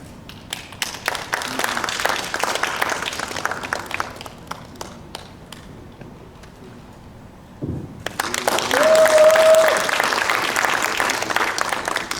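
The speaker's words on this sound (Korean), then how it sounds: "큰 박수 부탁드리겠습니다" Audience applause for a pansori singer, an award-winning traditional Korean vocalist, and her drummer: dense, steady clapping fills the room for about eight seconds, briefly drops off, then swells again even louder.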